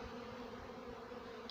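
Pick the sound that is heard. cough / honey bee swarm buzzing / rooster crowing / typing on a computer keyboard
honey bee swarm buzzing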